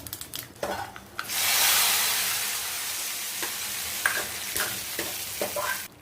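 Curry leaves hit hot oil after mustard seeds with a loud burst of sizzling that swells, then settles into steady frying crackle, with a few clinks and stirring sounds.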